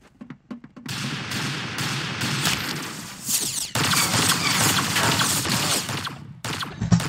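Rapid bursts of gunfire in the Roblox game Arsenal, loud and dense, with sustained volleys filling most of the stretch after a brief quiet opening.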